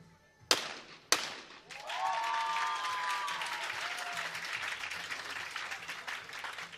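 Two sharp shotgun cracks from a women's junior skeet shooting event ring out, then a crowd outdoors breaks into steady applause that carries on evenly to the end, with no talk over it.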